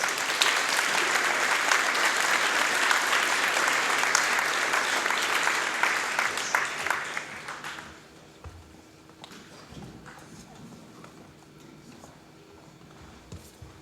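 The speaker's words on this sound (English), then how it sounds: "Can we give them another round of applause?" An audience at a hometown heroes awards ceremony applauds the recipients, a dense, steady round of clapping that holds strongly for several seconds, then tapers away into a quiet room with faint shuffling.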